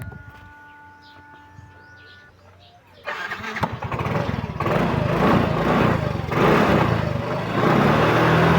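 A Yamaha Mio i 125 scooter with a fault that makes it start but die soon after: a few quiet seconds of faint hum, then the engine catches and runs loudly and steadily, close by, to the end.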